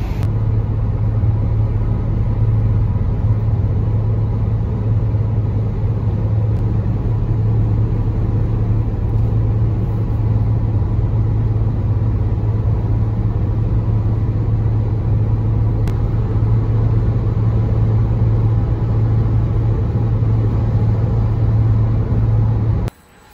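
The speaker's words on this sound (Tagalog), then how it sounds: "Concentrate ang driver dito sa pagmamaneho ng sasakyan" Steady, loud car engine hum and low road rumble while driving, constant throughout with no talking.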